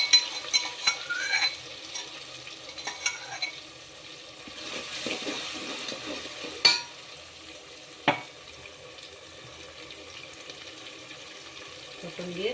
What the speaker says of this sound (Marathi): फोडणी देते आहे मी.